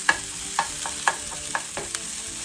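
Garlic being added to a hot pan and stirred while meatloaf is prepared, giving a soft sizzle under a series of spoon or spatula knocks and scrapes spaced about every half second.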